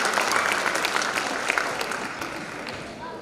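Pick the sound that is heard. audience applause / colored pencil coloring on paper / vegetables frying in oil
audience applause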